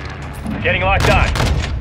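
Gunfire and battle noise from the Modern Warfare 2 campaign, a dense, loud wash of shots and bursts swelling in the second half over a rumbling background, with a brief radio-like voice mixed in.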